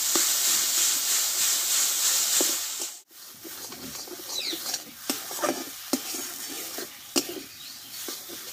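Bean paste stir-fried in a pan sizzles with a steady hiss, broken by a brief pause, then continues with scraping spatula strokes and crackling bursts close up.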